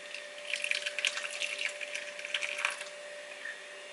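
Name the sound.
pouring date syrup mixture onto cheesecloth to strain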